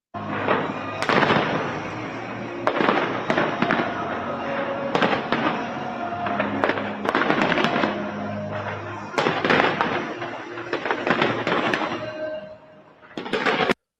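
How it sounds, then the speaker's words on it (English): New Year's Eve fireworks display at Westminster, London, with a steady run of loud bursts and crackling bangs over a constant crowd-and-broadcast rumble, some volleys clustered closely, ending in a brief louder flurry. "I found this to be rather enjoyable as a fireworks display. The old London Westminster Abbey display."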